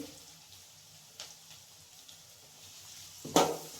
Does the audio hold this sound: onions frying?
yes